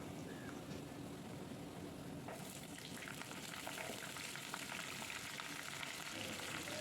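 Potatoes and bottle gourd stalks frying in a pan, heard as a faint, steady hiss of oil that grows slightly fuller partway through, with no voices.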